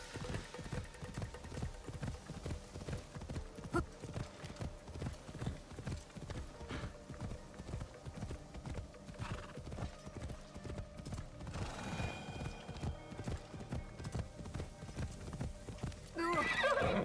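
A horse gallops with rapid, rhythmic hoofbeats in the video game Assassin's Creed Shadows, then whinnies near the end, with game sounds and a faint voice now and then under the steady clip-clop.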